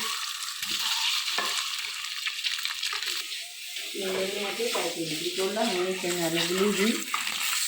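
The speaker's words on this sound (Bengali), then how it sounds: "ডিমগুলো ভেজে নেবো" Duck eggs, coated with a little turmeric, sizzle and crackle in hot oil, with a voice speaking over the frying for much of the time.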